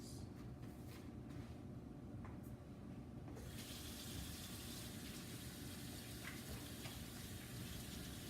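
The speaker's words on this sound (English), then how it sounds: "I'm going to take my gloves off and quickly wash my hands." Running tap water splashing into a sink as hands are washed in a culinary class kitchen, a steady faint gush, with the stream growing fuller and brighter partway through.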